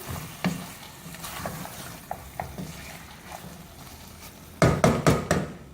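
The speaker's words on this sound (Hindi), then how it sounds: "अब इसको अच्छी तरह से मिक्स करेंगे।" Mutton being stirred into ground spices in a pan gives a soft, steady sizzle with scattered light scrapes and knocks, building near the end into a quicker run of louder clatters.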